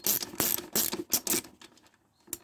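Screw being tightened on a 250 KX-F motocross bike, a run of quick ratcheting clicks close by followed by a pause and one final click.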